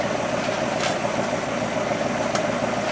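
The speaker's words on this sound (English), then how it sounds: "That engine's quiet, it's sweet." A 1964 Plymouth Barracuda engine idling smoothly and quietly, a steady low mechanical drone with faint vibration throughout, heard close with no talking.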